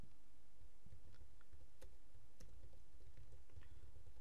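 Typing on a computer keyboard while coding, with quiet, irregular key clicks and a few sharper taps over faint background hiss, no voice present.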